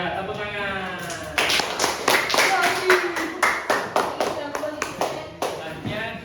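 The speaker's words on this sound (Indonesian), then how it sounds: "Sudah, tepuk tangan." Students in a classroom clap together after a group finishes presenting on household technology, a quick ragged burst of claps that starts after a second of room murmur and carries on steadily, close and fairly loud.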